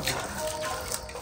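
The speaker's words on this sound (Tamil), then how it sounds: "தண்ணி தெளிச்சாச்சு" Water splashing and sprinkling onto the ground outdoors, a steady wet hiss lasting the whole moment, close by and moderately loud, with no talking over it.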